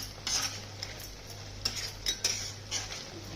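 Dry prawn masala being stirred in a pan, with several distinct metal spoon scrapes and clinks against the pan spaced across a quiet background, with no talk.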